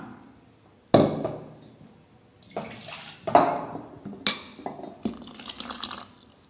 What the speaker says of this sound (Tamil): இதை அப்போ இட்லி மாவில் ஊற்றிக்கலாம்